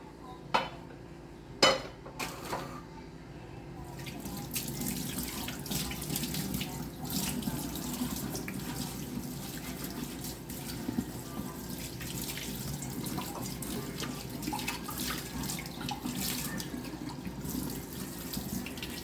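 Water runs steadily from a kitchen tap into a sink, a continuous close hiss with a few clinks of dishes and utensils near the start.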